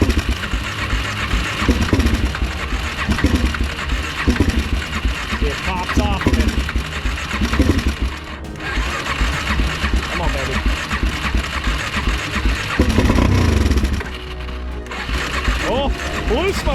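A badly neglected Suzuki Z400 motorcycle engine runs on heavy throttle, with a loud, continuous, buzzy rasp close by that briefly dips twice, while someone talks over it.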